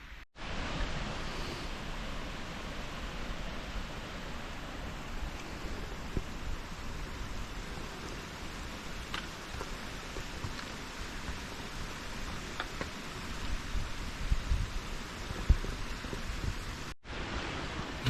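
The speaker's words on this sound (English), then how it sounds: "There's a lot of cool little streams up here. They're right along the trail." Small mountain streams flow beside the Appalachian Trail, a steady broadband rush of running water that stays even and continuous, with no voices over it.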